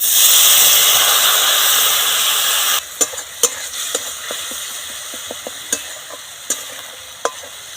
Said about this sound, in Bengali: মশলাটা ভালো করে কষে নেব মশলা থেকে তেল ছেড়ে গেছে